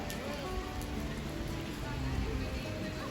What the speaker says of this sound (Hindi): बहुत तेज़ बारिश हो रही है इस बार